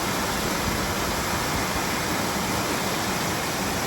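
Water pours slowly into a canal lock past leaky gates as a constant, loud rushing hiss with no pauses.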